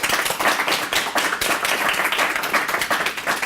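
An evening audience applauds Simon after his presentation at a Thèse en poche event: steady, dense clapping from many hands, fairly close and continuous throughout, with no voices on top.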